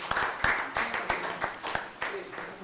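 A small audience at a football league press conference and draw claps briefly, with a few distinct, sparse claps and a voice talking over them.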